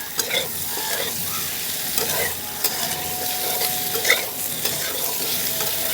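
Broad beans and potatoes fry with spices in a pan, giving a dense, steady sizzle close up, punctuated by scraping stirs and clinks of a spatula, with no talking.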